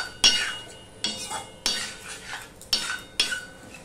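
A spoon scrapes and stirs raw banana curry with mustard in a pan, giving about five distinct scraping strokes with short pauses between, close and clear, with only a faint sizzle underneath.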